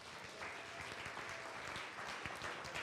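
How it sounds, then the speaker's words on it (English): An outdoor community-meeting crowd claps and cheers steadily for a few seconds, dense applause with no pauses. "I want to hear a round of applause for DPW and the construction crew"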